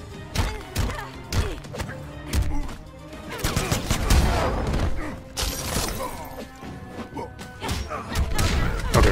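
A female fighter's guns fire in Mortal Kombat X, staccato bursts of gunshots mixed with heavy thuds and shattering hits, irregular and punchy, with scattered crowd-like noise beneath.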